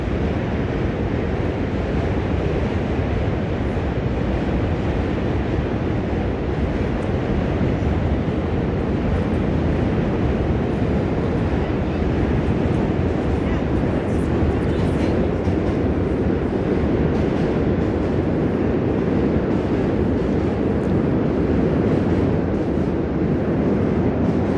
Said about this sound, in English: the trains are moving right above us on the Manhattan Bridge